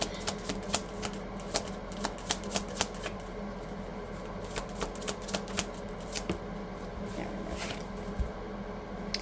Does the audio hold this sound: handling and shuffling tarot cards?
yes